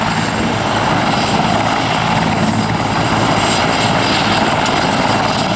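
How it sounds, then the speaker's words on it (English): A Sikorsky CH-53G heavy transport helicopter passes at an air show, its rotor and turbine roar loud and continuous throughout with a steady pulsing throb. "as I said, the Sikorsky CH-53G."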